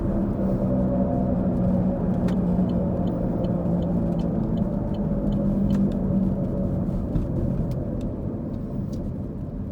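Steady interior road noise of a car driving along Kingston Pike in Knoxville, Tennessee, a continuous low rumble with faint ticks and no talking.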